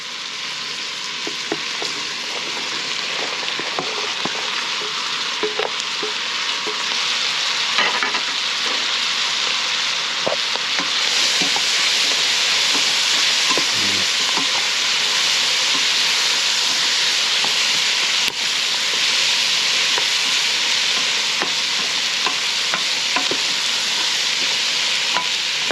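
Two bay leaves and mirepoix sauté for jambalaya in a pan, giving a loud, steady hissing sizzle with small crackles and occasional utensil taps, close and unbroken, no talking.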